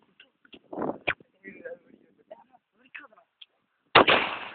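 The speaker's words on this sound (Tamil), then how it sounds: "இதோ பாருங்கள், வெடியை கூட நெருப்புடன் தான் கையிலே வைத்து வெடிக்கின்றார்" A sharp, loud firecracker bang rings out near the end, following scattered talk and small pops; the blast decays with a brief rumbling tail.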